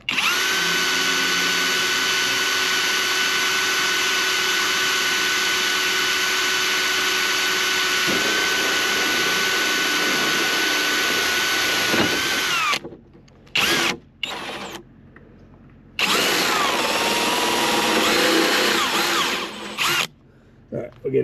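A power drill bores into 1-inch-wide tubing beside a solar panel on a Honda Odyssey van, whining loudly at a steady pitch and then in short stop-start bursts as the trigger is released and pressed again.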